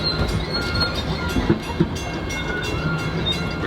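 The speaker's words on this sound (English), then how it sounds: "Remain seated until the train comes to a complete stop." Animal Kingdom theme park train rolling along its tracks, a steady close rumble with a few faint wheel clicks and light squeals.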